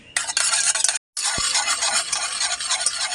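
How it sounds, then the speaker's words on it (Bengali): Sour curd (yogurt) is beaten vigorously in a bowl, giving a rapid, continuous scraping and swishing that is close and loud, with one brief silent pause near the one-second mark. "এবার টক দইটা ভালো করে ফাটিয়ে নিতে হবে।"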